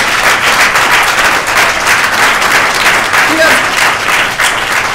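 Audience at a keynote banquet applauds steadily for several seconds, a dense, loud wash of clapping from many hands.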